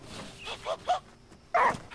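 A dog in the video game Last Day of June gives a few short yips and barks, moderately close, spaced apart with quiet gaps and one louder burst near the end.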